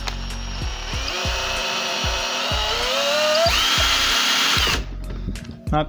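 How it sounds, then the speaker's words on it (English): A power drill whines loudly and steadily while drilling through a model battleship kit part, its pitch rising under load, with repeated clunking knocks beneath, then cuts off near the end. "work the drill through there one more time"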